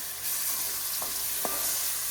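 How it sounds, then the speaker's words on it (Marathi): Tomatoes dropped into hot oil and masala for Maggi noodles give a steady, fairly loud sizzle that swells after a moment, with a couple of short scraping stirs in the middle. "आपण टाकूया ह्याच्यामध्ये आपलं टमाटर"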